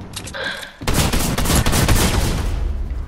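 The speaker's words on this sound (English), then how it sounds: "Are they shooting at you? Nah, I shoot at him. Oh, yep, now they're shooting at me." Rapid gunfire from a Fortnite match bursts out loud and dense after a short lead-in, continuing as an almost unbroken volley of shots for the rest of the moment.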